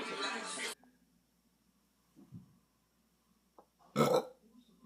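Two loud belches: a long, raspy one at the start and a shorter, punchy one a few seconds later, with near silence and a few soft noises between.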